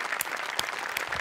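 A studio audience at a Marathi comedy show breaks into loud, dense applause for the cast, a continuous wash of clapping with sharp individual claps standing out throughout.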